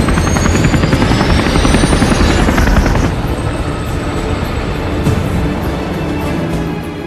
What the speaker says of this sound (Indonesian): bergegas pergi menggunakan helikopter ke perbatasan